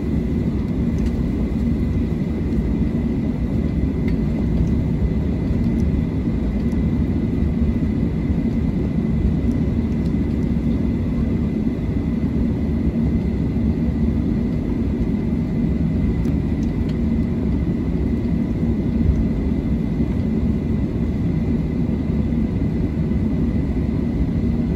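Boeing 737-700 jet airliner departing, a loud, constant low engine roar with a steady whir, unbroken throughout with no voices.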